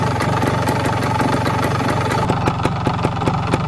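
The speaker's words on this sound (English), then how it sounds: "Right next to the spark plug on a running bike, Brian." A vintage Beta Synt trial motorcycle engine runs steadily up close, a loud continuous idle with a rapid regular firing pulse throughout.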